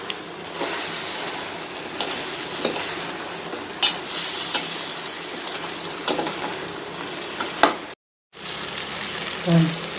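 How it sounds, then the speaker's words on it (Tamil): Chicken pieces stirred and sautéed in a pan for chicken fried biryani, a steady close sizzle with scraping stir strokes and occasional clinks, no talking. "இப்போ இந்த சிக்கனை இதில் போட்டுருங்க. போட்டு நல்லா வணக்கி எடுத்துக்கோங்க."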